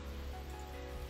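In The Fruit of Grisaia, rain drums against a building as a soft, steady patter of drops, quiet and even throughout.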